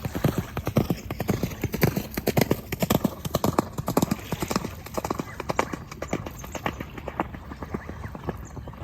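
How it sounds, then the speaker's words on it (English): Horses gallop on sand, their hoofbeats thudding in quick, dense, overlapping rhythm, fairly close and continuous throughout. "It's certainly interesting the way the horses are galloping back and forward."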